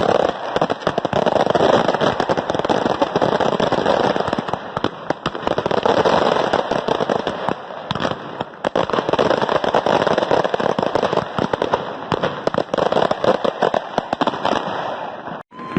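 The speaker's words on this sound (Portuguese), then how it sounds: "Isso aqui não são fogos de comemoração. São fogos de revolta." Continuous crackling barrage of fireworks and firecrackers set off as a protest at night in Brasília, dense rapid bursts and pops filling the whole stretch loudly and steadily with no pause.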